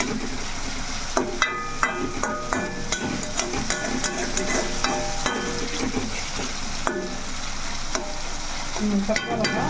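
Masala for a fish curry sizzles and fries steadily in a pan, with frequent scraping and clinking stirs against the metal throughout.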